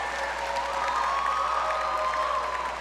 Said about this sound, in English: Let's give a round of applause to the Master of Nonprofit Leadership and Management graduates